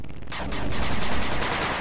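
A machine gun turret in the 8-Bit Armies game fires a dense, continuous burst of rapid gunfire, loud and close, heard alone for about two seconds.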